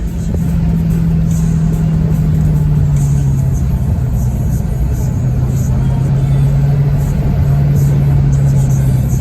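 Dodge Challenger Scat Pack, a 4,300-pound car fitted with handling mods, cruising on a test drive: a loud, steady low engine drone with road rumble throughout, its pitch easing slightly lower over the stretch.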